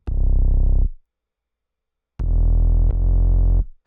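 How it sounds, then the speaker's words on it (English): A Trillion sub bass synth on the Clicky 106 preset with added saturation for bite plays two loud, deep sustained notes, the first short and the second longer with a sharp click at each onset, alone with no talking. "So basically use the Clicky 106 sub preset from Trillion and put some extra decapitator here just to give it some bite."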